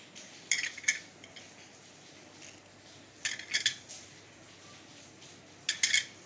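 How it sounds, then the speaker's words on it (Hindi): Spices being mixed into potatoes in a bowl, with three short bursts of clinking and scraping from a utensil against the bowl, separated by quiet pauses. "इन सब मसालों को मैं इसमें मिक्स कर लूँगी।"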